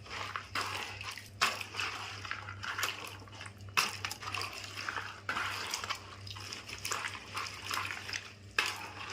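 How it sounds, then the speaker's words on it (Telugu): Green chillies are washed in water at close range, with sloshing, splashing and small clinks of a vessel coming in short bursts over a low steady hum, quiet overall. "ఈ సైజ్ కాయలు తీసుకొని ఇట్లా తీసుకొని శుభ్రంగా రెండు సార్లు కడుక్కోవాలండి"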